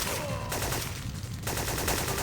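Gunfire in the video game Syphon Filter comes as a dense, continuous burst of shots over loud game noise. It breaks off for about a second, then starts again.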